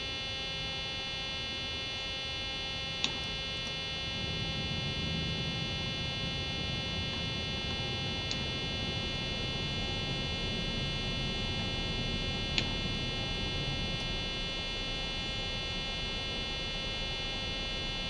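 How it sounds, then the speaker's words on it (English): A steady electronic buzz drones continuously inside a Boeing 737-800 cockpit in a flight simulator. The tone stays unbroken and even throughout, with only a few faint clicks. "I'm not really sure what activates that buzzing noise."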